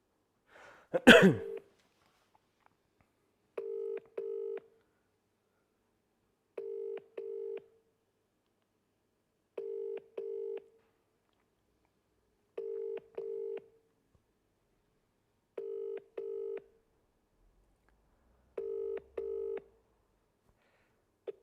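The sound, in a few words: telephone dialing tones while placing a phone call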